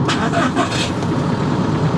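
A BMW M5 F10 engine runs on gas, a loud, close, rough rumble with uneven pulses throughout.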